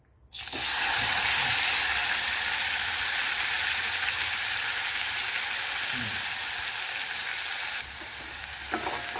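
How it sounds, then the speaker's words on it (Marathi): Spring onion greens sautéing in hot oil with asafoetida and turmeric, a loud sizzle that bursts in suddenly and holds steady for several seconds, with faint stirring scrapes and no talk. "आता छान आपण ती कांद्याची पात तेलामध्ये परततोय"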